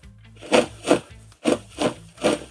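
Foley footsteps for a heroine, performed by a man wearing heels: five evenly paced, close, crisp heel strikes on a hard surface, each with a short scuffing tail, with no voices.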